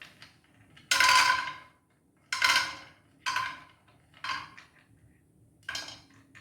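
Almonds dry roasting in a pan for dry fruit laddu, heard as five separate bursts of rattling and scraping, like nuts being stirred and tossed against the metal, with quiet gaps between them and no talk.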